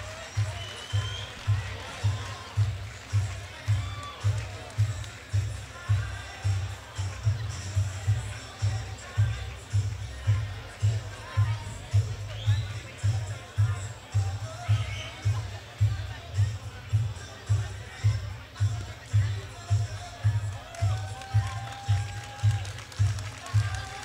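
A boxing crowd applauds a Japanese fighter after the bout, a spread of hand clapping and murmur set against a loud steady low thumping beat.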